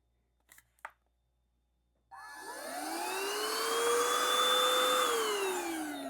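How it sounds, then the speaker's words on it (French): A vacuum cleaner switches on after two brief clicks and runs loudly, its motor whine rising in pitch as it spins up and then holding a steady, close drone. "le 10 secondes pas nécessaire d'aspirateur"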